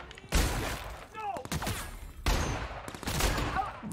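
Gunfire in The Outer Worlds, two loud close volleys of heavy shots with echoing impacts, separated by a brief lull with a short voice sound.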